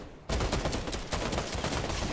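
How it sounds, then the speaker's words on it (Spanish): Rapid gunfire bursts out in the Fortnite video game after a short quiet start, loud and dense, with repeated shots running close together to the end. "Creo que manda disparo por la espalda."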